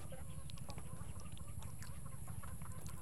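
Chickens cluck faintly inside a coop, scattered short calls over a steady low rumble of background noise.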